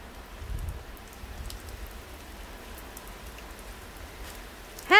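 Steady rain hisses evenly throughout, with a brief chirp rising at the very end.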